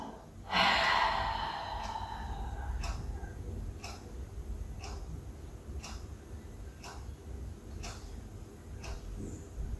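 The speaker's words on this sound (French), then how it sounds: "on inspire quand la position est statique et on expire dans le mouvement" Slow breaths in and out during a beginner Pilates exercise, a strong close exhale at the start followed by quieter steady breathing, with faint regular ticking in the background.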